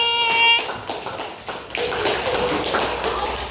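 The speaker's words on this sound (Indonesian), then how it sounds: "Silakan tepuk tangan untuk Fahmi" A class of students clapping for a classmate named Fahmi, a brief burst of hand claps in a classroom with some tapping and knocks.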